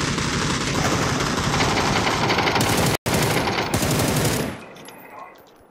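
Rapid automatic gunfire in a video game rattles in dense continuous bursts. It cuts out briefly partway through, resumes, then fades away toward the end.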